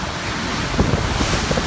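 Hurricane Harvey wind gusts roar steadily on the Texas coast with surf and flying debris, a loud continuous broadband rush swelling in bursts, with no voices.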